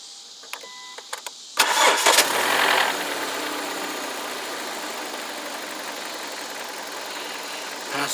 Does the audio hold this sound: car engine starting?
yes